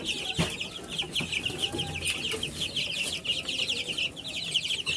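Chickens cluck continuously in a broiler farm coop, a dense chorus of many birds close by, steady and busy throughout with no talking.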